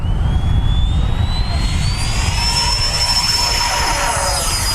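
A Freewing F/A-18C Hornet 90mm electric ducted-fan RC jet in Blue Angels livery takes off, a loud, close, continuous roar with a high whine that rises steadily in pitch and then levels off.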